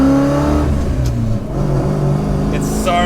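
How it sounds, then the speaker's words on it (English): A Holden HQ car engine runs nearby with a Falcon T5 short shifter fitted, giving a loud, steady drone with humming tones that shift pitch slightly, plus a few brief higher mechanical whirs and clicks toward the end. "you hear how much more engine noise there is?"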